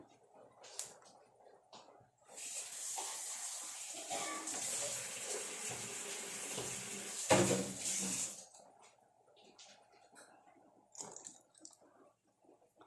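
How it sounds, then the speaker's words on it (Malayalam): Water is poured into a mango pulissery curry as a steady splashing stream lasting about six seconds, framed by quiet kitchen sounds and faint talk before and after. "ഇച്ചിരി വെള്ളം കൂടെ ഒഴിക്കാം"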